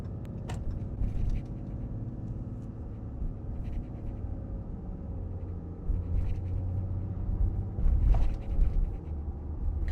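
A Ram 2500 with a Cummins diesel engine pulls a trailer and accelerates, heard from inside the cab as a steady low rumble that swells louder toward the end, with faint clicks and no talking.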